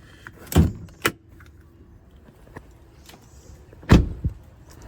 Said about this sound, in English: the first thing you're going to want to do is pop the hood